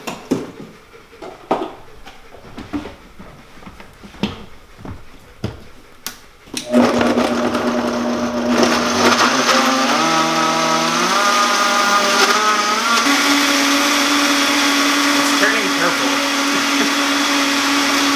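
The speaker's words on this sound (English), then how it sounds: "And now we blend." A blender starts with a loud whir after some faint handling noises, its motor pitch rising and shifting as it churns a red, white and blue smoothie steadily through the end.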